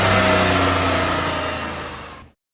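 A supercharged Dodge Charger Hellcat with a truck-bed conversion, running 15 pounds of boost on E85 at about 700 horsepower, roars loudly at high revs, then the sound fades steadily before cutting off.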